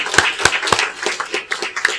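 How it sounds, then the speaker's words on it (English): A small room of attendees at a local investment gathering claps for a city council member, with a few sharp individual claps standing out over a softer, uneven patter of hands. "Let's give him a round of applause"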